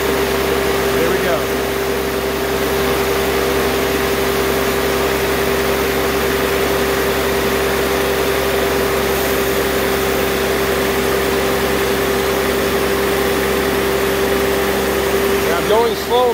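A sawmill engine runs steadily at throttle while driving a carbide tipped blade, a loud continuous drone with a strong steady tone and no break throughout.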